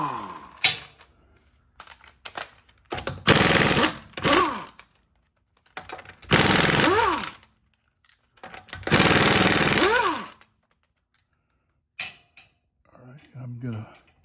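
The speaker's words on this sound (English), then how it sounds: "We're going to start off by removing our 3/4 lug nuts." An impact wrench breaks loose the 3/4 lug nuts on a Ford Fusion wheel in several loud, rattling bursts of a few seconds each, with quiet gaps and brief clanks between them.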